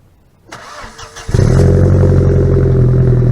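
After a brief quiet, an engine with a straight-pipe exhaust cranks and fires up, then settles into a loud, deep, rumbling idle with a throaty, booming exhaust tone.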